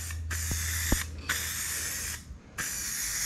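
An aerosol can sprays Black Diamond color-matched paint onto 2021 Ford Bronco grill letters in three sustained hissing bursts separated by brief pauses, close to the listener, with faint clicks of the nozzle between passes.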